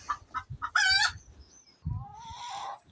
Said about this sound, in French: il y a la poule derrière qui chante